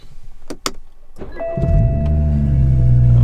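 A car engine cranks and starts, with a brief starter whir before it catches and settles into a steady, loud idle close by, with no talking over it.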